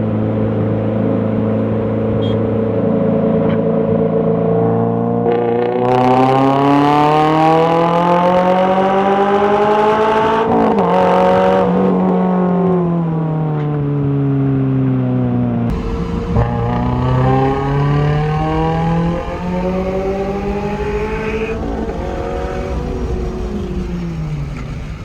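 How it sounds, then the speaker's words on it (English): A Sprintex-supercharged car and a Harrop-supercharged car pull hard together in third gear from about 35 mph, their engines droning loud and steady, rising in pitch through a long sweep, dipping briefly at a shift, then climbing again. "In that clip, we were doing about 35 miles an hour, and both in third gear, and kind of just loaded the cars up."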